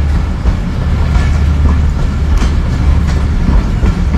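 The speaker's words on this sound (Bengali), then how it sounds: "ট্রেন যাচ্ছে না, ট্রেন আসছে" The Modhumoti Express, hauling an old vacuum-braked rake, rumbles in along the line with deep steady rolling noise and periodic wheel clacks, close and loud throughout.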